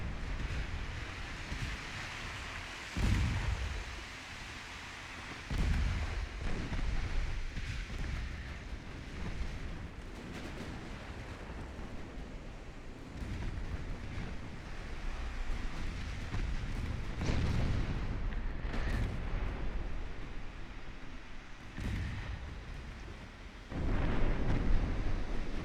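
Naval gunfire in Ultimate Admiral: Dreadnoughts, deep booming shots spaced every few seconds over a constant roar of sea and wind, heavy and distant-sounding.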